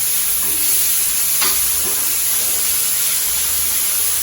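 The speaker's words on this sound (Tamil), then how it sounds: "இப்போ இந்த சீரகம் பொரிஞ்ச உடனே வெங்காயம், பூண்டு, இஞ்சி." Cumin, onion, garlic and ginger fry in a pan as stirring strokes break a steady, loud sizzle that runs throughout.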